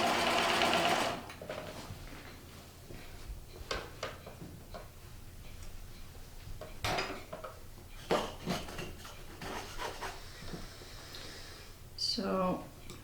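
A sewing machine stitches a quillo in quick ticking bursts separated by pauses, with soft clinks of handling in between and someone talking quietly over it.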